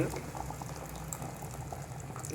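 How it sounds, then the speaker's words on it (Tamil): Village-style country chicken curry bubbles and simmers steadily in a pot, a soft continuous bubbling with small pops, fairly quiet and with no voices. "அதுக்குள்ளே கொதிக்குது"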